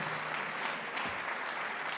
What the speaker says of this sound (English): A round of applause for former Chief Justice